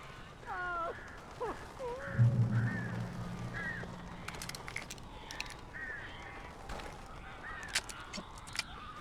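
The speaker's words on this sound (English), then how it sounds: "These birds are weird." Crows caw in the video game Alan Wake, harsh calls scattered through the clip over a low ambient bed, with a deep honk-like sound and faint background noise.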